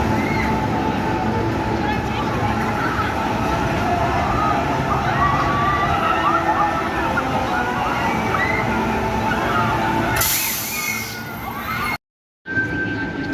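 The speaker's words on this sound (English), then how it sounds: "the water fountains are at the full, how full it can go" Water fountains running at full force at the Toxicator ride in Forbidden Valley, Alton Towers, on a summer day: a steady splashing, rushing wash under crowd noise and nearby voices, with a brief louder burst near the end before cutting out.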